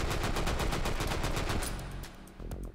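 Sten submachine gun in a VR shooting game fires a rapid full-auto burst of sharp, evenly spaced shots, loud and close, tapering off near the end with no talking.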